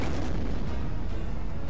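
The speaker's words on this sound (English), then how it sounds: "Look how fast that artillery's going." Rapid artillery fire in the strategy game Seventh Legion, a dense continuous roar of overlapping booms and bursts, loud and close with no pauses.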